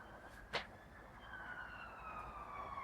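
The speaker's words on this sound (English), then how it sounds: "You know very well that it's an ambulance, of course it is" Ambulance siren wailing in long descending tones at moderate distance, with a sharp knock early on and no talk over it.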